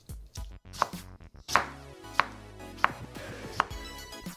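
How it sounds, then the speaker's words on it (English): A knife chops fresh mint for a garnish on a cutting board, giving four sharp, distinct strikes at an uneven pace, close and clear against a soft background with no talking. "As a final garnish, we're going to chop up some mint and mix that in too"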